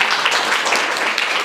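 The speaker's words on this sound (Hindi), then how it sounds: "ताली बजाइए इनके लिए।" A crowd of school students breaks into dense, sustained applause for a classmate, loud and steady throughout, with no gaps.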